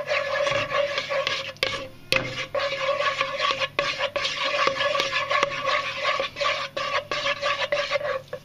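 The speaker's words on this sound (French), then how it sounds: "Et là tu vas touiller pour mélanger les 3 ingrédients." A spoon stirs three ingredients together in a pot, giving a close, continuous scraping and rubbing with repeated knocks against the sides and no voices.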